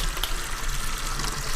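Hot water gushes into a 5-gallon bucket in a prison cell, a steady close rushing splash that continues unbroken with no talking.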